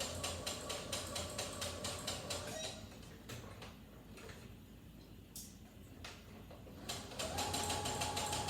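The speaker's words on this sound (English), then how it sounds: "I just go backwards a few times and then I'll keep sewing on." Home sewing machine stitching a seam on lingerie fabric for panties, a steady rapid mechanical whir with a brief backstitch pause and some handling clicks before the motor resumes close by.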